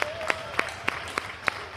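Neighbours applaud from their balconies over a town square, with sharp separate claps landing in a regular rhythm about every third of a second, close and distinct over a softer background of more clapping.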